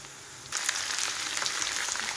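Liver frying with onions in a pan for Alexandrian-style liver with garlic and tomato, a quieter hiss that jumps into a loud, steady sizzle after half a second, close and alone.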